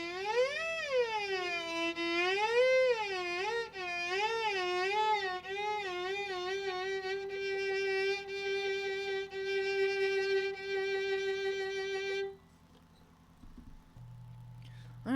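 Violin or viola vibrato exercise, a single sustained bowed note with slow, wide pitch waves that gradually narrow and quicken, then the note stops and a faint low hum remains.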